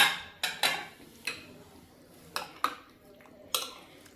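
A spoon mixing black pepper, salt and whole cumin in a bowl: a handful of separate, crisp metallic clinks and taps, close and unhurried, with no talking.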